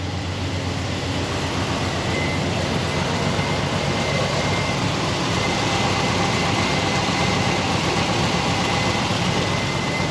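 The engine of a 1980 Pontiac Trans Am Bandit idles steadily, a continuous low rumble with a constant hum held close and even for the full ten seconds, no voices over it.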